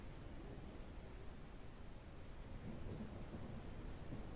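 A thunderstorm rumbles in the video game Ranch Simulator as a loud, steady wash of rain and thunder, broad and continuous with no clear breaks and no talking.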